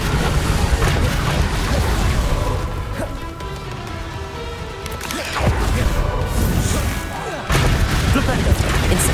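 Bombarda explosion spells cast in the video game Hogwarts Legacy, loud crashing blasts and booms recurring amid game chaos, with a voice speaking over them.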